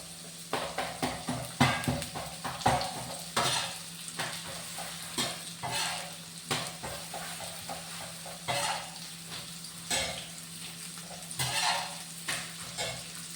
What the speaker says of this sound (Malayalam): കുറച്ച് കറിവേപ്പില ഇട്ടു. ഇതെല്ലാം കൂടി ഒന്ന് വഴറ്റിയിട്ട് മസാല പൊടിക്കണം.